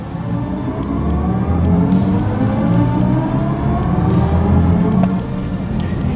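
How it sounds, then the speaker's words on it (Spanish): A BMW i4 eDrive40 electric car plays its synthetic Iconic Sounds drive tone under full acceleration, a smooth layered hum that climbs steadily in pitch over a low road rumble, loud and continuous with no talk. "vamos a tener los Iconic Sounds, que en este caso van a estar sonando. Y bueno, acá va freno y acelerador a fondo."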